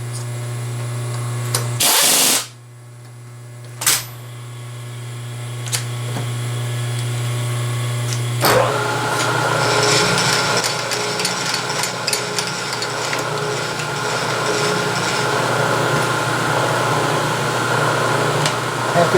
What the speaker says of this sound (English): Inch end mill, we're about 800 RPM, that's about right.